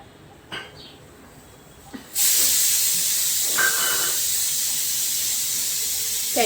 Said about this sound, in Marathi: कुकर लावलेला आहे मुलांसाठी